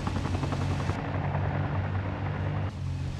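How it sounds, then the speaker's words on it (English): A helicopter in Arma Reforger thunders close by, its loud rhythmic rotor chop and engine roar continuous throughout, briefly dulling partway as it moves. "Oh, there's a helicopter."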